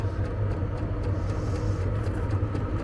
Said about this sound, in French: Là il accélère.